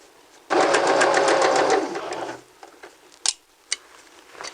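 A sewing machine stitches in a quick, buzzing burst for about two seconds, slows and stops, then gives a few separate sharp clicks.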